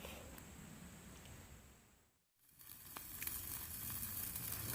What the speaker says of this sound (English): Just cooking over top of this little fire